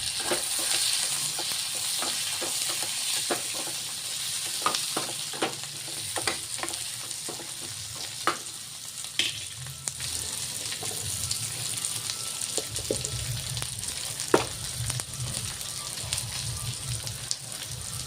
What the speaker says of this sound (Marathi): आता हे आपले कांदा मिरची वगैरे भाजून होत आलेले आहे